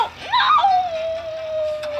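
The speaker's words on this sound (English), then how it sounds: "It's a puppy dog!" A cartoonish puppy dog cry in the video game Blocky Roads, a short rising yelp followed by a long, steady whining tone that fades slowly, heard alone with no talk.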